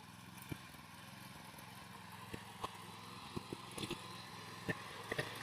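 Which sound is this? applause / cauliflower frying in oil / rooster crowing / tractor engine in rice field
tractor engine in rice field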